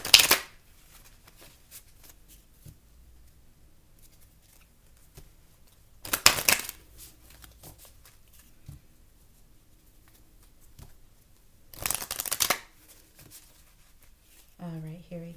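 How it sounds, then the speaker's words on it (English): Deck of oracle cards, a chakra deck, being shuffled by hand in three short, crisp riffling bursts spaced several seconds apart, with quiet pauses between them. "Let's go ahead and shuffle real quick."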